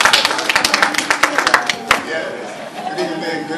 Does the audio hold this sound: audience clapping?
yes